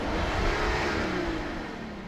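A steady, smooth engine hum of a 2021 Rolls-Royce Ghost heard from outside the vehicle, low and continuous, fairly quiet and even throughout.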